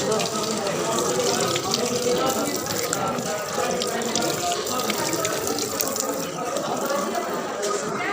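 Hands are washed under a running tap at a temple, the water gushing steadily and close with a constant splashing rush throughout.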